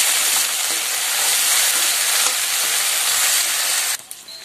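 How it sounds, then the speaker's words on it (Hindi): Green beans (sem) frying in plenty of oil in a village-style kitchen, giving a steady, dense sizzling hiss that holds loud and even for about four seconds before dropping off abruptly near the end. "तो हम इसको तेल में इसी तरह फ्राई कर लेंगे"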